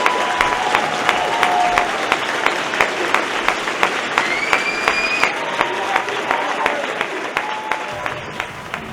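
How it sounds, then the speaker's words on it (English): Sustained round of applause from a lecture-hall audience honoring Bobby Seale, dense steady clapping with scattered louder claps and faint whistles, fairly close and even throughout. "Give Bobby Seale a round of applause."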